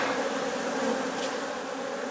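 Honey bees swarming over an open hive during a beekeeper's inspection of a walkaway split in Newfoundland, a close, dense, steady buzzing hum with no voices.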